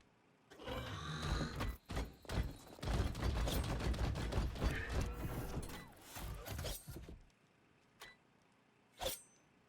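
Rapid bursts of gunfire crackle in the video game Wasteland 3, dense and loud for several seconds, then trail off into a few isolated shots.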